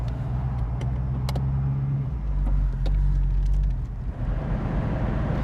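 A 1973 Ford Mustang convertible engine rumbles at idle, then pulls away with the top down, a low, steady drone and rising road noise, close by and loud, no talking.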